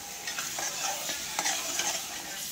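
Mutton masala frying in oil as it is stirred, a continuous bright sizzle with repeated spoon scrapes against the pan, fairly faint and close, with no one talking.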